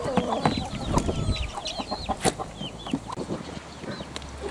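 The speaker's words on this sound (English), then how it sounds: "Goats and chickens seem to be interested in them at the minute." Chickens on an allotment cluck near ducklings in a run, with several close, irregular clucks and short calls over a low background murmur.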